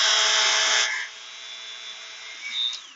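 A Dremel rotary tool polishing a gun trigger gives a loud, bright, high-pitched whine that drops sharply after about a second into a softer, steady hum, with a brief rise near the end.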